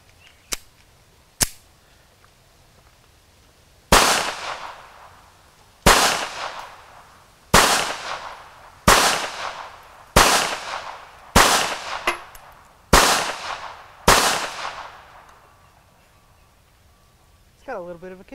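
A Bersa Thunder .380 pistol fires outdoors, two sharp cracks followed by eight loud, evenly spaced shots with echoing decays, and a faint rattle at the end.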